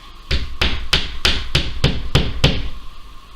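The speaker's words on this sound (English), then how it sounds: "So we'll put a nail in." A hammer drives a nail into a wall while searching for the stud: eight sharp, evenly spaced blows land about a third of a second apart, loud and close, with no talking.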